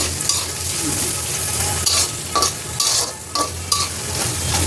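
Onions sizzle steadily in a hot pan while a utensil stirs and scrapes several times in an uneven rhythm, close and fairly loud.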